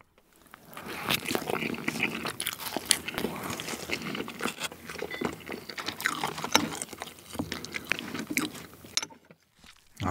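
Bread dipped in butter being eaten up close at a tomahawk steak meal, with soft, irregular biting and chewing crunches and mouth sounds throughout, fairly quiet and continuous until a brief pause near the end.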